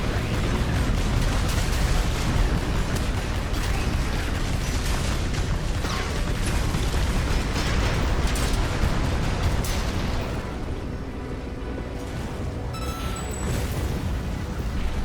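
Grenade launcher explosions in a video game crash out loud and dense, a near-continuous roar of overlapping blasts and rumbling booms that eases somewhat toward the end.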